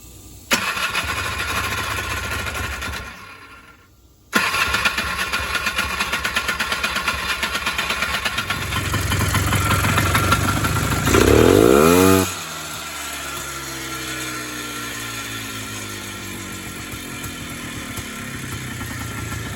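A Polaris engine with a carburetor under repair cranks, cuts out briefly, then fires and runs loudly with a steady buzzing idle that revs up once and settles back, close to the listener and with no talking.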